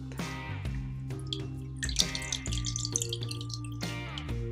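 Rice paper being turned in a dish of water gives soft sloshes and drips close to the microphone, in irregular small splashes with faint ringing tones from the bowl.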